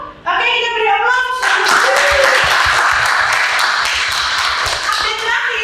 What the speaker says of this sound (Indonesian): Oke, kita beri aplaus.